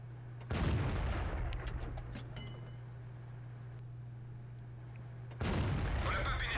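Two heavy booming shots from the M4A1 Revalorisé tank gun in World of Tanks, one near the start and one near the end. Each blast is loud and has a ringing tail, with a steady engine hum underneath.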